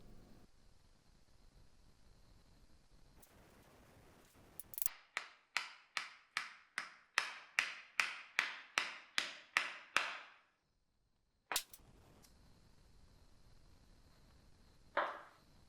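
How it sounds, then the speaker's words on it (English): A hammer drives an alignment tool through wet blue roll packed into the centre of a pilot bearing on a BMW E30 325i Touring. About a dozen steady, evenly spaced strikes ring out, followed by a lone sharper knock after a pause. "I used wet blue roll hammered through the centre of the bearing with the alignment tool to force it out"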